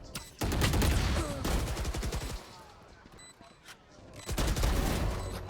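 Gunfire in a Valorant esports match, with rapid automatic bursts cracking close and loud, then a quieter stretch before another heavy volley near the end.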